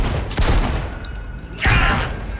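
Crusher auto shotgun blasts in a first-person shooter game, two heavy booming shots spaced about a second apart, with a slow firing cadence and no talk.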